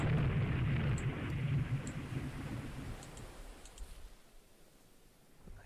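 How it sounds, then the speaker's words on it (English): A torpedo slams into a warship in the naval strategy game Rule the Waves 2: one heavy, booming blast that rolls into a long, low rumble and slowly fades over several seconds, with faint ticks above it. "why are you hit by a torpedo?"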